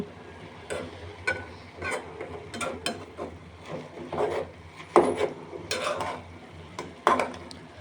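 Red amaranth greens stirred in a cooking pan with a utensil, a series of close rubbing scrapes and wooden knocks at an uneven rhythm, moderately loud with no voices.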